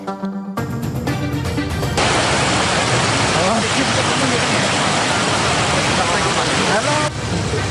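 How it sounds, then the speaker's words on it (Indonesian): Floodwater gushing through a breached levee of the Cabean river in Tologoweru village, Demak, Central Java, a loud continuous roar of rushing water that fills the scene after a brief opening of tonal sound. "Jebolnya tanggul membuat air mengalir deras ke jalan dan permukiman warga."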